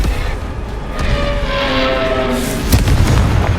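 A Confringo blasting spell goes off in the Hogwarts Legacy video game, a loud booming explosion with crackling debris and a whooshing tail, layered over ongoing battle rumble.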